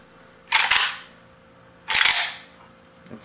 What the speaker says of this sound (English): That's safety off right there.